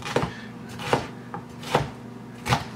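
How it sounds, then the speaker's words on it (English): Knife cutting a red pepper into julienne strips on a board, five distinct close chopping knocks spaced unevenly about half a second apart over quiet background. "Just gonna slice a julienne out of this as well."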